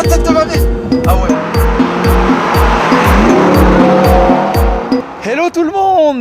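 Ethanol-fuelled V8 engine fitted in a converted Tesla revs hard in rapid repeated bursts, loud and close, with chatter and shouting from onlookers over the top and a final rising squeal near the end.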